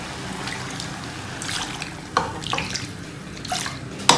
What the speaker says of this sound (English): So it's time to add some water.